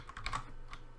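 Quiet computer keyboard typing, a short run of light irregular keystrokes close to the mic, entering an error-message text on screen, no voices.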